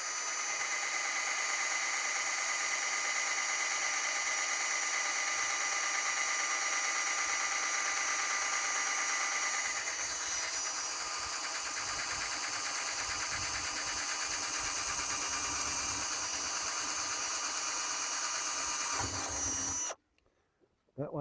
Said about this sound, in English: And we drill